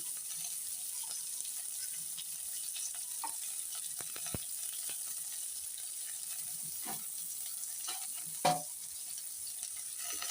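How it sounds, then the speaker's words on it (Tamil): Steady frying sizzle of orange peel and ginger sautéing, with occasional stirring clinks and a sharp clatter near the end, no voices. "இந்த ஆரஞ்சு பழ தோலை லைட்டாக அதில் போடுங்க அடுத்தது அந்த இஞ்சி"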